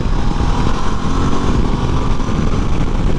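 A Ducati DesertX adventure motorcycle being ridden, with a loud, steady engine drone mixed with broadband wind rush that stays constant and close for the whole stretch.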